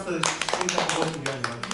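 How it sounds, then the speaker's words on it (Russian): Hands clap quickly and rhythmically at a birthday celebration, a run of close, light claps heard beneath people talking. "И хлопаем в ладоши"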